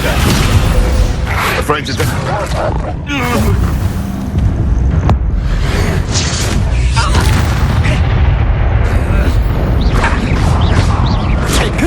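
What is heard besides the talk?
Confringo and Descendo spell blasts in video game Hogwarts Legacy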